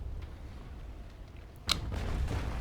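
A single heavy thud of cannon fire striking a ship in Naval Action, followed by a rising wash of rumbling noise over low ambient game sound.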